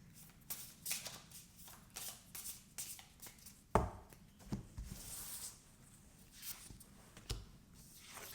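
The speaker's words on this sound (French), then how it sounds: "On va faire un tirage rapide avec 5 cartes." Tarot cards being shuffled before a five-card draw make quiet, close riffling and tapping, short papery bursts in an uneven rhythm with a sharper knock now and then, heard alone.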